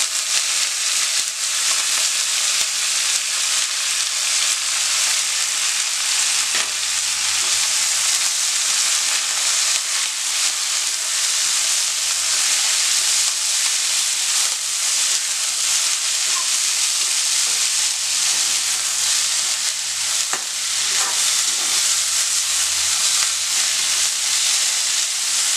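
Coriander leaves frying in oil for chutney make a steady, loud, close hiss that barely changes over the whole stretch, with occasional soft crackles and no speech.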